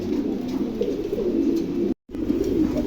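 Pigeons of the crested mundi breed, kept for sale, coo in a continuous low throaty chorus close by, cut off once by a brief moment of silence before resuming.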